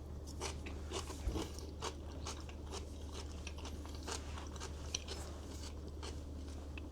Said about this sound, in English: Good crunch from the cucumber.